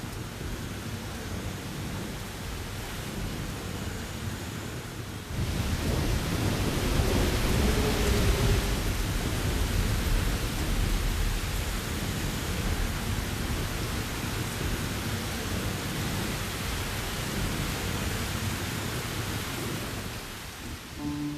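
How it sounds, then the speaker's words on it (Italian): Steady heavy rain pours down in a forest, with a low rumble of thunder rolling in partway through and the downpour growing denser afterward. "E il temporale arrivò."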